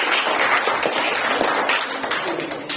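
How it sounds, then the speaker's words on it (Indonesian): Classroom applause in a practice-teaching lesson as a class claps for group 4's answer: a busy, continuous patter of many small hands, fairly loud and even, with a faint steady high whine underneath. "tepuk tangan dulu untuk jawaban dari kelompok 4"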